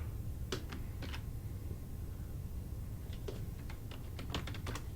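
Someone types on a computer keyboard in a few short bursts of light clicking keystrokes, close and fairly quiet over a steady low background hum, with no talking.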